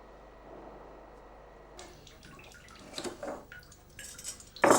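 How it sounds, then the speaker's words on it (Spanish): Goat cheeses are pulled from their moulds and set into containers of salt brine at an artisan cheese dairy, with light handling knocks, wet splashes and drips building to a louder clatter at the end, no talking. "los sacan de sus moldes y los introducen en unos recipientes llenos de agua salada o salmuera."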